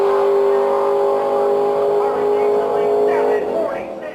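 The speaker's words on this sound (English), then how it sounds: "This is Chuck DeMaury Jr. in his 1967 Mustang Nostalgia Pro Street Car." Naturally aspirated big block Ford V8 in a 1967 Mustang nostalgia Pro Street drag car producing 1,400 horsepower, a loud steady engine drone with a rising pitch near the end, partly under a narrator's voice.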